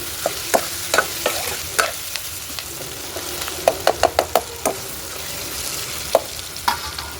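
Mushroom curry frying in a pan on a wood-fired stove, with a soft steady sizzle and a series of sharp scraping and clacking stirs that come in uneven bursts, close and fairly loud, with no talk.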